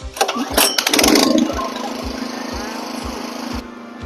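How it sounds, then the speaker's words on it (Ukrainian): A GENERGY VELETA 2.5/2.8 kW petrol generator with electric start, its engine catching with a burst of clattering then settling into a loud, steady close running drone with regular pulsing beats. "Генератор працює дуже тихо, ви спокійно можете займатися своїми справами."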